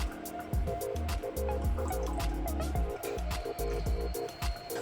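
Neem pesticide liquid is strained through cloth into a container, giving steady wet drips and trickling splashes in an uneven rhythm, close and moderately loud, with faint background noise.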